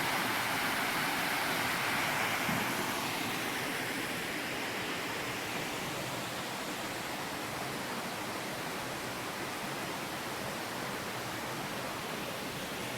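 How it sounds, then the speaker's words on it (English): Steady, full roar of North Harper Creek Falls in Pisgah National Forest, North Carolina, cascading nearby, a constant broadband rush with no breaks, no voices or other sounds over it. "it's definitely big enough to be a waterfall"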